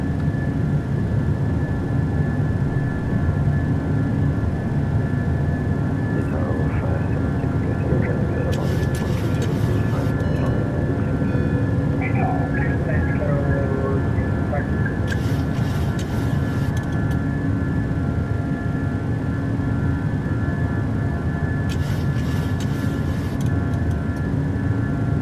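PMDG 737-800 jet climbing after takeoff from Geneva in Microsoft Flight Simulator: a steady, loud engine roar with no break throughout, with brief bursts of higher hiss now and then.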